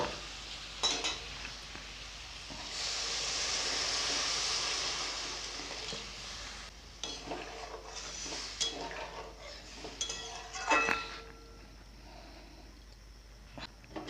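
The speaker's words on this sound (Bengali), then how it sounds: "এবারে আমি জল দিয়ে দিব" Water poured into a pan of potato curry (aloo dum) makes a steady hissing sizzle for a few seconds, followed by scattered clinks and scrapes of a utensil against the pan.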